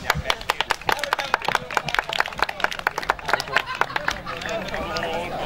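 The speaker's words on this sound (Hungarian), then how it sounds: "Egy nagy tapsot!" At an outdoor fish soup cooking contest, a crowd claps in lively, fairly even bursts for several seconds while voices talk and call out over the applause.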